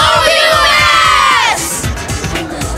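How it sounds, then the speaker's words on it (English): A loud crowd packed with children cheers and shouts at a basketball game on a kids' day, a dense roar of high voices that swells and then settles into ragged whoops and yelling. "a loud, boisterous crowd that was bolstered by a large group of youngsters who are here for Kids Day"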